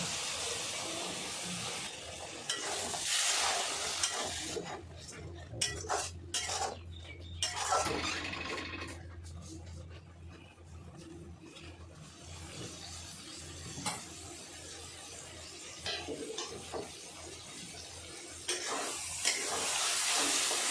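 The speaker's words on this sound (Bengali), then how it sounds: "একটুখানি জল দিয়ে দেবো মশলাটা যাতে না জ্বলে যায়" Spice paste fries in a pan and is stirred with a splash of water while prawn and bottle gourd ghonto is being cooked, giving a continuous close sizzle and hiss broken by scraping stirs that come and go over about twenty seconds.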